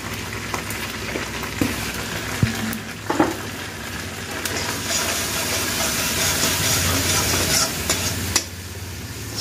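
Spice paste with turmeric being stirred and fried in a kadai for potato dum, a steady close sizzle and hiss with occasional scraping and clinks of the spoon, no talking.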